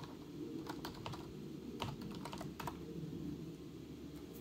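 Typing on an external keyboard plugged into a ONEXPLAYER handheld computer running Ubuntu 20.04, a steady patter of clicky keystrokes with a few louder taps, close and alone over a faint background hum.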